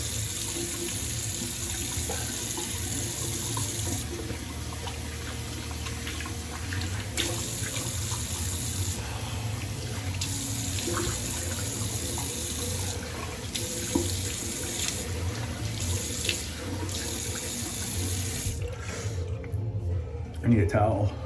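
Tap water running steadily into a sink while a face is rinsed after shaving, a close continuous splashing hiss with small interruptions from hands in the stream, ending in a few louder splashes.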